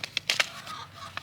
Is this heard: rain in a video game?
no